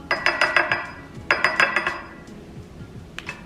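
Spoon clinks rapidly against a bowl while matcha is prepared: two quick bursts of bright, ringing taps, close and distinct, followed by quieter scattered clinks and a soft background hum.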